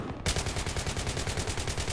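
Sustained rapid machine gun fire in Battlefield 3 multiplayer, a loud unbroken stream of shots starting abruptly after a brief quiet moment.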